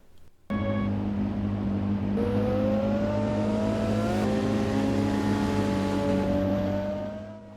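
A motorcycle engine in the arcade racing game Motor Racer by Delphin Software International and Electronic Arts drones continuously and loud, its pitch climbing gradually as it revs up before fading slightly at the end.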